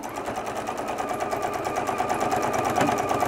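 A home sewing machine stitches bias tape close to the edge of a fabric iPad case under the presser foot, giving a steady, fast mechanical whir with rapid repeating needle pulses throughout, near and loud, with no voices.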